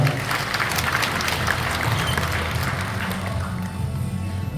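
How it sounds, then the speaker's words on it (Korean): Steady applause from a sizable crowd in a civic auditorium hall at a book launch event, dense and continuous throughout, with a faint murmur of voices underneath. "박수 한번 부탁드립니다"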